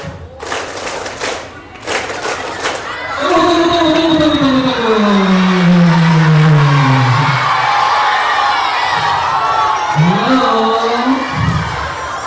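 Children at an elementary school graduation celebration cheering loudly, with a crowd roar, rising and falling shouts and scattered claps and thumps, close and sustained.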